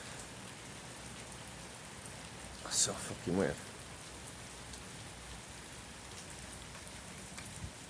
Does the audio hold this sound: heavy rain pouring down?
yes